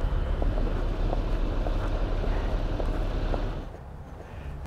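Cold northerly wind blowing outdoors, a steady broadband rush and rumble buffeting the microphone, easing to a quieter hush near the end, with no voices.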